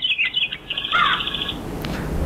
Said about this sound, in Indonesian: Ada burung sedang terbang.